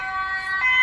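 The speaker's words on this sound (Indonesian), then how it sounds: "mohon maaf ya, ada sirine, mudah-mudahan tidak mengganggu suaranya" Emergency vehicle siren passing outside during a recording: a loud, steady wailing tone with strong harmonics, heard alone and rising slightly near the end.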